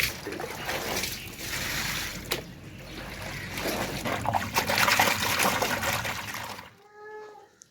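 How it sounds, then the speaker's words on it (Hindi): Tap water running steadily while clothes are being washed, a continuous trickling, splashing flow that fills nearly the whole stretch before cutting off near the end. "पानी काफ़ी आ रहा है।"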